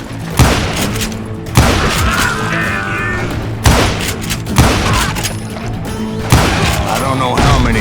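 Gunfire in the Call of Juarez Gunslinger video game, loud close shots striking in irregular bursts every second or two, with rumbling echoes and game noise between them.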